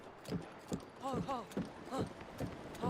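Horse hooves clip-clop in a steady, even gallop through Zelda: Breath of the Wild, with the rider's talk mixed in over the hoofbeats.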